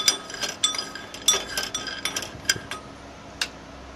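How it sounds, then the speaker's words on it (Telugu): Peanuts are tossed into a small pan over a gas stove for roasting, rattling and clinking in quick, scattered bursts of bright metallic ticks that thin out toward the end, close and fairly loud. "ఒక చిన్న పెనం పెట్టి అందులో పల్లీలను వేసి వేయించాలి"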